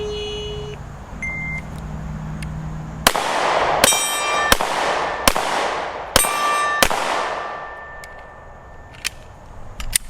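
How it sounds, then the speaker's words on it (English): Sharp, loud pistol shots from a Smith & Wesson M&P Shield X ring out in a quick string during a timed drill, several rounds clanging off a steel gong target with ringing metallic decay between reports. "I'm going to take a shot at the head, a shot at the gong, a shot at the head"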